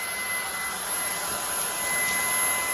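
A Ryobi 18V ONE+ cordless stick vacuum runs steadily in a garage while picking up leaves and seed, a constant whirring whine with a thin high tone and no talk.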